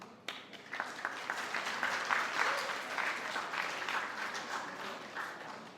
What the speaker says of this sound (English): Okay, everybody, could you just keep the applause for afterwards?